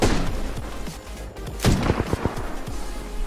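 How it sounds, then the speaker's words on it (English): Gunfire in the video game Apex Legends: a sharp, loud burst of shots cracks out mid-clip over a rumbling background, followed by a few scattered, fainter reports. "I knew I heard bullets."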